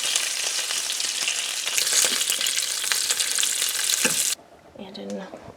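Bacon crisping in a frying pan gives off a loud, dense sizzle that runs steadily, then cuts off abruptly near the end, leaving quieter clatter behind.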